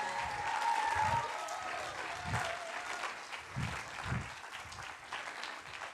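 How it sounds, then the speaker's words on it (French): Crowd applause in a cinema for a burlesque performer at a cabaret-hosted film premiere, steady and moderately distant clapping throughout, with a few low thumps mixed in. "Un tonnerre d'applaudissements, s'il vous plaît, pour Foxy Lexi Brown."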